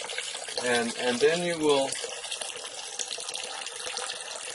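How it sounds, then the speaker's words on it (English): Water runs steadily through a Wellsys bottleless water cooler while it flushes newly fitted filters, a continuous hiss and trickle with a person talking over the first half. "you want to let it run for another 2 or 3 minutes just to flush your filters thoroughly"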